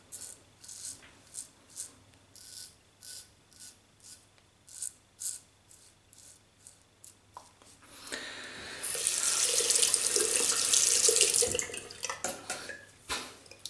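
Tap water runs into a sink while a shave stick is rinsed, starting as rhythmic splashing bursts, then a steady loud gush, then brief splashes, with no talking.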